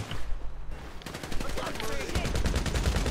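Rapid bursts of video game gunfire, automatic fire rattling in quick repeated volleys that grow denser and louder after a brief quieter opening, with scattered impacts and background game noise.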